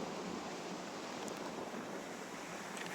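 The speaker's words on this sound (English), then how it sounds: "that wind is whipping" Wind whipping outdoors in a Nashville cemetery, a steady broad rushing roar with gusty buffeting against the microphone, fairly faint and constant throughout with no voices.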